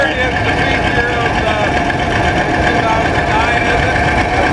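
A John Deere 530 row crop two-cylinder tractor with a single front wheel runs steadily at a show, its engine a continuous loud mechanical drone with a rough, pulsing texture throughout.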